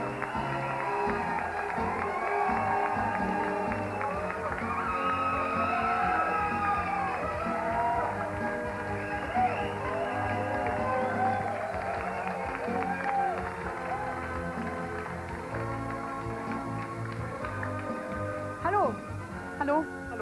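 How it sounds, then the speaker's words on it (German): Studio audience at a 1997 German TV talk show applauds and cheers at length, a dense crowd roar with whoops, while voices talk over it near the end. "Applaus"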